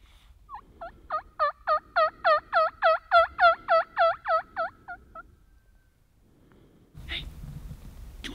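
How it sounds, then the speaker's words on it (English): A wild turkey gobbles in a fast, rattling burst of about a dozen rising and falling calls, fairly close and clear, followed by quiet and then a rustling wash of noise. "No, that is a turkey."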